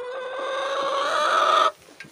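A hen gives a drawn-out, rising cluck up close, followed by a softer short cluck after a pause.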